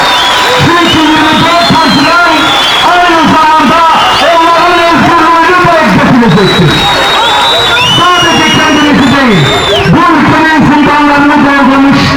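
A crowd at a political rally honoring lawmakers and human rights defenders applauds and cheers for about twelve seconds, with steady clapping mixed with shouts, whoops and raised voices throughout.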